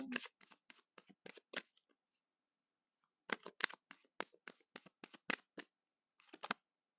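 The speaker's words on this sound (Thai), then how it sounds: "ขอเช็คพลังงานจากไพ่ออร์โคสามใบนะคะ" Oracle tarot cards are shuffled in quick, crisp bursts of riffling and snapping, with a short pause between two runs; close and fairly quiet, with no talking.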